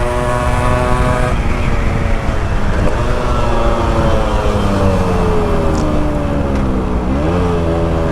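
A Yamaha RX100 motorcycle fitted with a custom muffler roars through a loud exhaust, a dense, rasping two-stroke note that holds steady, dips briefly as the revs shift, then climbs again.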